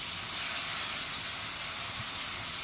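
Finely chopped tomatoes and onions fry together over a low to medium flame for chana masala, making a steady, close, bright hiss that holds without a break.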